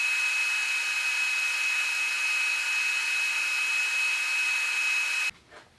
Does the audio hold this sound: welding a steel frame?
yes